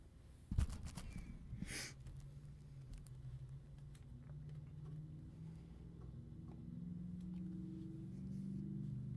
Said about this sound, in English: Big car going through.